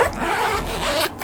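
A zipper on a Bible cover with a cross-shaped pull is drawn along its track in one quick, continuous, close rasping pull lasting about a second.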